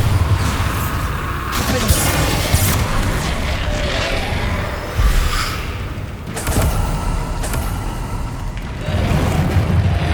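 Bombarda blasting spell from the video game Hogwarts Legacy, heard as loud booming explosions with whooshing rushes and heavy rumbling bursts, several blasts spread across a dense, noisy stretch.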